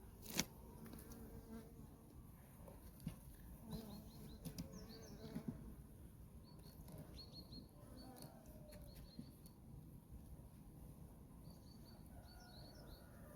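A steady, dense buzzing of many honey bees in a hive fills the background, continuous and close, with occasional faint bird-like chirps and small knocks.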